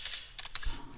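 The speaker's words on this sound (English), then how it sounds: "you'll just have to type it in" Computer keyboard typing, a short run of a few quick, light clicks, close and alone.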